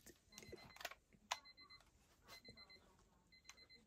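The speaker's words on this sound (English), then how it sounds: "I can hear a timer going off." An old electronic timer goes off inside a box, sounding as a series of faint, thin repeated beeps in short bursts, muffled and distant, with light clicks and handling noise around them.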